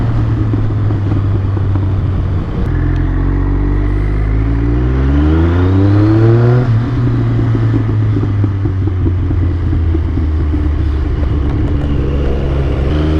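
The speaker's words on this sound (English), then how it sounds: "I could literally just sit here and just go first gear up through the revs, let it pop and bang" A Triumph triple motorcycle engine revs up hard through first gear, its note climbing in pitch and then dropping back, with crackles and pops on the overrun. The engine is loud and close, and no one speaks.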